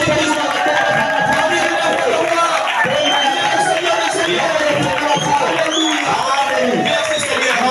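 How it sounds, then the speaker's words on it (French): A church congregation cheers and acclaims Jesus Christ, a loud, continuous crowd roar of voices and whoops that fills the room without a break. "Acclamons pour le Seigneur Jésus-Christ."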